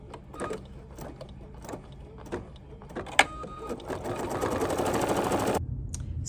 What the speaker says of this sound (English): now I'm just going to stitch out the numbers 7,